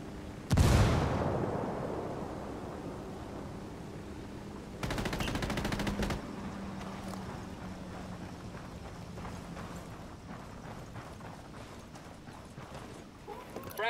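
Grenade explosion with bursts of gunfire in the video game Ghost Recon Wildlands: a loud blast opens, then a rapid volley of shots follows amid ongoing distant crackling combat.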